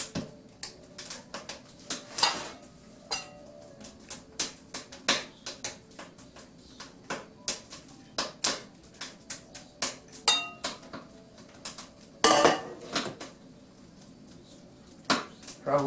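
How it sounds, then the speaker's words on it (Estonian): Pumpkin puree being folded into egg white foam in a bowl, with irregular light clinks and taps of a utensil against the bowl's side, scattered close and clear over a quiet background. "Munavaht on mul nüüd kausis ja siia ma segan sisse selle püree, kõrvitsa püree."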